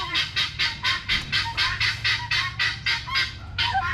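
Chickens in a coop clucking and squawking in a steady run of about a dozen evenly spaced calls, fairly close and loud, with no talk over them.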